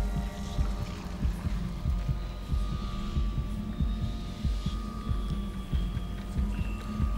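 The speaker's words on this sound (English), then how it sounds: "Stop playing the danger heartbeat, everything is fine." Danger heartbeat sound effect in the video game Tulpa: a steady, low, throbbing pulse repeating over a constant droning hum and ambient game noise, continuous and fairly loud, with no speech.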